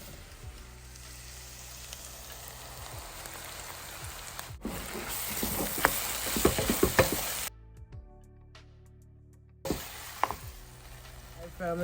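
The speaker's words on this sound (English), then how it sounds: "this cheese is already melting" Vegan Stockeld Dreamery cheese melting in a pan for queso dip, with a steady sizzle and stirring scrapes that grow louder midway, then cut out briefly before the frying returns.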